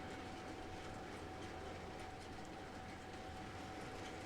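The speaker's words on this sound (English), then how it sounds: "Yes, that train does go around the other one" Model railway trains, including a Q6 locomotive, running around a layout, giving a steady, continuous rolling rumble with faint clickety-clack and a thin sustained whine throughout, with no talking.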